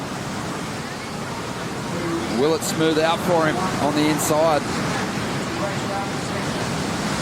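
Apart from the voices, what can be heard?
ocean waves breaking in surf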